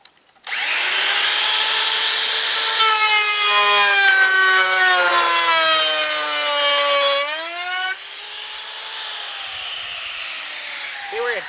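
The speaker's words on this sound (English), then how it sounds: "We're going to go ahead and tighten it up, turn her on, and do some routing." A router cuts leftover vinyl lattice for a garden trellis, a loud steady whine that spins up, holds with bright harmonic tones shifting in pitch as the bit bites, then drops lower near the end.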